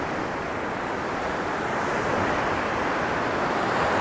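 Sea waves roll onto a sandy beach at Vityazevo near Anapa, a steady broad wash of surf and wind that keeps up without a break and grows slightly louder toward the end.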